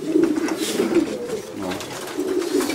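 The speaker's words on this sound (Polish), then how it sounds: "Samczyki jak gruchają, czekają na swoje samiczki" Soft, throaty cooing of male pigeons repeats in low rolling phrases, fairly close, with a steady murmur of other birds around.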